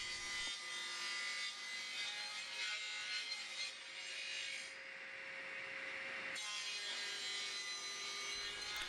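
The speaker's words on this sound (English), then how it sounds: "So I cut in a slot so I could glue in a piece with the grain going the opposite way." A hand saw cuts a slot into wood for a chair part, giving loud, close, continuous rasping strokes that pause briefly near the start and end, with no talk.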